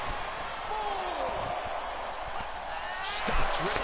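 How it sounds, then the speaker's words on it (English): WWE 2K22 wrestling game slam: a body crashes onto the ring mat with a couple of sharp thuds, heard over arena crowd noise and a commentator's voice. "Rhea Ripley picking her up like she was nothing, slamming her onto the mat there."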